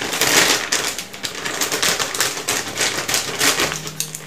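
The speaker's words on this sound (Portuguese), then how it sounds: "Pegar a tesoura porque é bem ruim de abrir." Scissors snip and rustle through the plastic wrapping of a lollipop package while restocking goods in a small shop, a continuous close crinkling and clicking with no talk.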